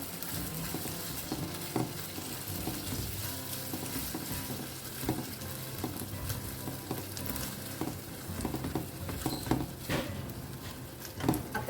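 Goan prawn balchao masala with vinegar frying in a pan while being stirred, a steady close sizzle with frequent scraping and tapping of the spoon throughout.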